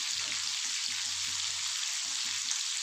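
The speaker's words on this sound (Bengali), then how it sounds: "দিয়ে ভালো করে আমি ভেজে তুলে নেব" Capsicum and onions fry in a pan with a steady, even sizzle that carries through without pause, close up and with no voices.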